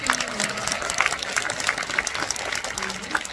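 An audience at a film screening Q&A applauds, a dense patter of clapping that runs under a speaking voice throughout.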